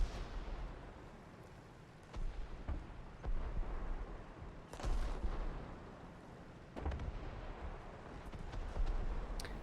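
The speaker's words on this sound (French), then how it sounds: "Beg qui vient de pulvériser Dakon avec son tir d'artillerie" Repeated booming artillery blasts in a competitive World of Tanks match, heavy low-frequency thuds landing every couple of seconds over a dense, rumbling battle background.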